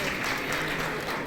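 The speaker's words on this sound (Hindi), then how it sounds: "जोरदार तालियां बजाएंगे।" Loud audience applause at an alumni meet, a brief burst of dense clapping that stays even from start to finish.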